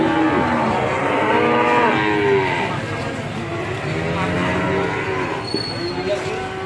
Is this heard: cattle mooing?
yes